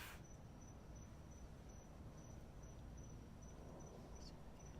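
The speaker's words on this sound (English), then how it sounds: "Listen to the crickets." Crickets chirp in a steady, evenly spaced pulse at a distance, faint and high over a soft hiss of night ambience.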